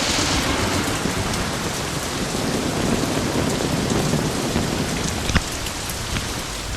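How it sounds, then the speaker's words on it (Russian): A powerful night thunderstorm pours heavy rain steadily onto surfaces at a riverside campsite, a dense unbroken hiss with low rumbling thunder beneath and a sharp crack near the end. "нас накрыла мощная гроза"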